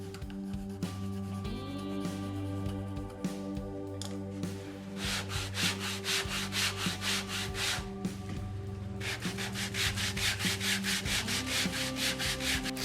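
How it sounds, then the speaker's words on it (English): Steady, rhythmic rubbing of a flat sanding block across a wooden Telecaster-style guitar body, continuous strokes close by, with a low musical hum underneath. "I'm going to switch over to this flat sanding block"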